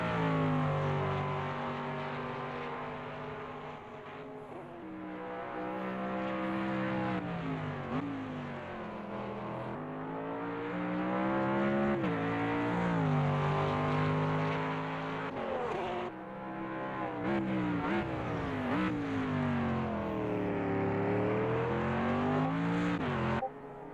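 GT3 racing cars, including an AMG Mercedes, in a racing video game on a Japanese circuit: a continuous engine note that climbs and drops repeatedly through gear changes, loud and alone without talk.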